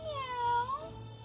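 A pet cat gives one drawn-out meow close by with a rising then falling pitch, over a low background hum.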